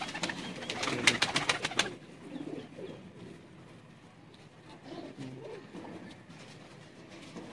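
Sialkoti pigeons cooing softly in a loft after a burst of clattering wing flaps, low murmuring coos repeating close by with faint background noise.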